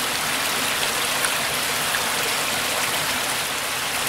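Water trickles down a small cascade inside Signal Point Cave, producing a dense, steady hiss of splashing close by, even and unbroken throughout with no voices.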